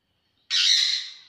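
A parrot lets out a single loud, harsh squawk, close by and alone, starting abruptly after silence and trailing off over about a second.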